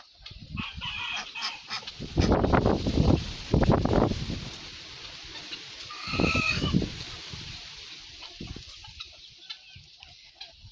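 Ducks calling with bursts of quacking in two loud spells, softer chatter between, outdoors with no talking.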